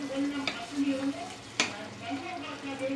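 Tomatoes stirred into a frying pan already sizzling with green chillies while cooking sardine thilappichathu: steady sizzle and frying hiss with scraping stir strokes and a sharp utensil clack near the middle, close and clear.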